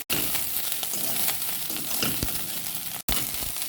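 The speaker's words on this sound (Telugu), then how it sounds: "పచ్చిమిరపకాయలు వేగాక ఇడ్లీ ముక్కలు వేసేసుకోవాలి వేసేసుకొని వేగించుకోవాలి" Idli pieces fry in ghee with green chillies and curry leaves, a dense, close, continuous sizzle with faint stirring scrapes and a brief cut near the end.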